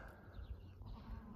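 Goats bleating at a farm during milking time, faint and somewhat distant, a low wavering call over quiet background noise.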